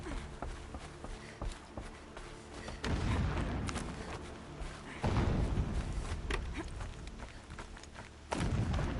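Explosions echo in the video game Horizon Zero Dawn as low, rumbling booms swelling in about three waves, somewhat distant and muffled, with fainter thumps between them.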